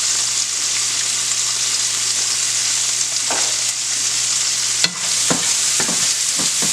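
Onions with curry powder and black pepper sizzling in a hot pan as shrimp gets stirred through for tacos, a steady close fry hiss with several sharp utensil scrapes and knocks toward the end, no voices.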